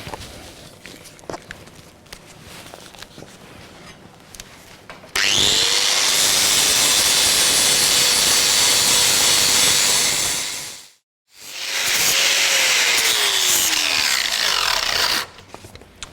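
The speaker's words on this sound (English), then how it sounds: "it'll take a little while to sand it up again" Power sander working over a welded car body repair panel: two long, loud, steady grinding-whirring runs separated by a brief pause, each spinning up and winding down, with quieter workshop shuffling before them.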